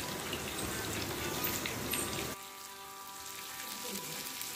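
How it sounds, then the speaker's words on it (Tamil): Pieces of kili fish frying in oil over a medium flame, a steady crackling sizzle that is loud at first and then drops to a softer, quieter hiss, with no talk. "மீன் துண்டுகள் எல்லாத்தையும் சேர்த்து 2 பக்கமும் நல்லா வறுத்துக்கலாம்."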